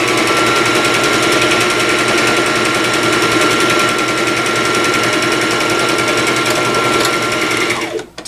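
A sewing machine stitches cross stitch pillow panels, running loud and steady with a fast, even mechanical whir and needle chatter for several seconds before slowing and stopping abruptly at the end.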